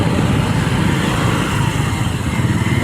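A motorcycle engine runs after a clutch repair, holding a loud, steady, close idle with a dense rumble and no pauses.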